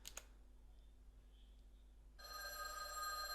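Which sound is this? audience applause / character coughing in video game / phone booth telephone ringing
phone booth telephone ringing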